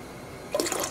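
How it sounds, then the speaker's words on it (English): White vinegar is poured into a dye pot holding water, for dyeing glazed yarn. After a quiet start, a short liquid splash and gurgle arrive near the end, close and clear. "I am adding 2/3 of a cup of white vinegar"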